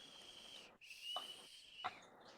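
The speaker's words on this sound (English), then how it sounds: "I'm gonna go ahead and I'm gonna blow my whistle until we get our graphics in order" A referee-style whistle blows in a series of sharp, shrill bursts signaling a two-minute warning, the steady tone broken by brief clicks and gaps, close and fairly quiet.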